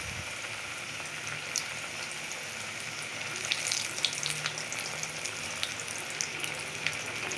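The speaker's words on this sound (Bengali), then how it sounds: "তেলে লুচি ছেড়ে দিলাম।" An egg-stuffed luchi (dimpuri) fries in hot oil with a continuous soft hiss and scattered bubbling crackles, close and steady throughout, with no talking.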